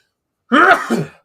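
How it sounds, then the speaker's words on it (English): A single sneeze, close and loud, a short voiced burst followed by a second smaller gust, over about three quarters of a second in otherwise silent surroundings. "Sorry for the sneeze there."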